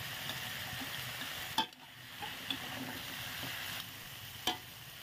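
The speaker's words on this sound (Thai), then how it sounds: "ใส่หัวบอนและก้านบอนลงไปผัดค่ะ" Taro corms and stems stir-fried in a pan give a steady, moderate sizzle with a few soft scrapes and clicks of stirring, continuous with no voices.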